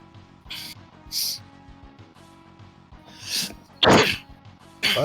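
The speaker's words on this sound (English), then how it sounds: "I actually coughed, but thank you." A single sharp cough bursts out near the mic over background music and game sounds from the Mega Man X3 session, followed by a second loud burst moments later.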